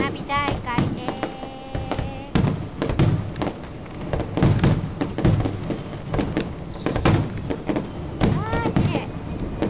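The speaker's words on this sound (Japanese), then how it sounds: "花火大会です。" A fireworks display seen from a beach hotel in Okinawa, with repeated booming bursts and crackles from a distance under a steady hum, and people talking quietly throughout.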